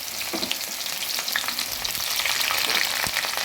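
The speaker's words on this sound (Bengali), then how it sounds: "এদিকে কড়াইতে তেল দিয়েছি তেল গরম হয়ে গেছে এবার আমি দিয়ে দিচ্ছি পেঁয়াজ রসুন আর কাঁচা লঙ্কা" Onion, garlic and green chili fry in hot oil in a kadai, a dense steady crackling sizzle with sharper pops scattered through, close and fairly loud with no talking.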